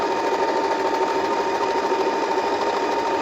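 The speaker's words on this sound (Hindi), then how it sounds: "डी पे हमारी जिगजैग की सिलाई है, यानी छोटे छोटे इसमें जिगजैग बनेंगे" An Usha Marvela automatic sewing machine runs a zigzag stitch, giving off a continuous, even, fast mechanical whir with a fine rapid pulse, close and steady throughout with no talking.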